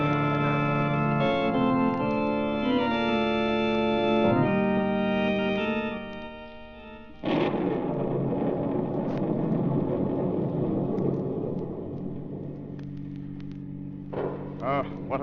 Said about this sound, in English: What a thunderstorm.